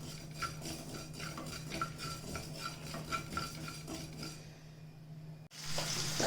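Mustard and cumin seeds tossed into a hot pan while making a broad bean and chili pickle, giving rhythmic scraping and stirring of a metal spoon and a soft sizzle, then a brief clatter near the end.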